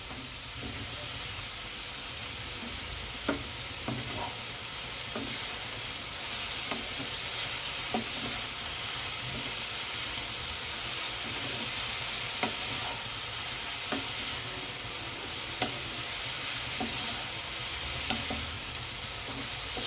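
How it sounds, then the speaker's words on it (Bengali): Cabbage and mixed vegetables stir-fry in a pan for a veg momo filling, with a steady sizzle throughout and a spatula scraping and tapping every second or so, close and alone. "সব সবজিগুলো বেশ কিছুটা করে ভাজা হয়ে গেছে"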